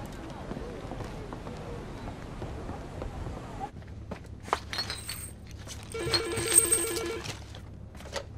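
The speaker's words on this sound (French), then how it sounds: "Il y a bien un téléphone au bord de la piscine." A telephone rings beside a swimming pool, its electronic trilling tone coming in short repeated bursts over a busy background of movement and music.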